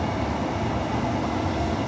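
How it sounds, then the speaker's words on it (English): A Perth suburban electric train on the Cannington line passes nearby, a short steady rumble and roar of rail wheels heard from aboard another train, loud and unbroken. "Another Cannington train there passing"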